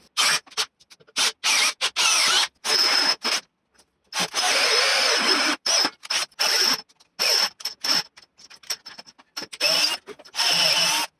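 A Parkside PBSPA 12 C3 12V cordless drill bores into wood with a 10 mm Parkside bit in short, loud, close-up bursts of motor whine, stopping and restarting repeatedly.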